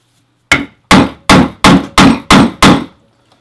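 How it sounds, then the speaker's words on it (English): Seven sharp hammer blows strike a rivet setter's doming piece set on a leather bag rivet, evenly spaced and close, each a crisp metallic whack with a short ring-off, with no talk. "And that will dome over the rivet"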